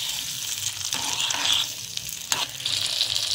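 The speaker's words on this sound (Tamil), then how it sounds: "இப்போ ஊற வச்ச பூண்டை கூட சேர்த்துக்கலாம். சேர்த்தாச்சு. நல்லா வதக்கிக்கணும்." Soaked garlic cloves sizzling in hot oil for garlic pickle, a steady close-up crackle with a few bursts of stirring scrapes and louder spits.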